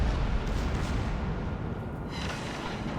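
Heavy naval gunfire from a warship game, a sustained loud rumbling roar of a battleship salvo filling the whole stretch with dense low boom and no clear separate shots.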